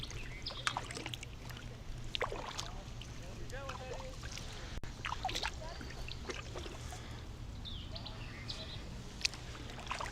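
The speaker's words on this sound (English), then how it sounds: "I think I'm the only one out here on the lake paddling." Kayak paddling on a lake in Cumberland Mountain State Park, Tennessee, with soft water swishes and drips over steady outdoor ambience, faint bird calls and a person talking.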